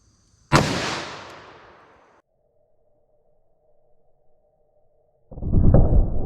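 .357 Magnum gunshot into a ballistics gel block outdoors, one sharp loud crack with a long decaying echo, a quiet electronic tone afterward, then another loud burst of noise near the end.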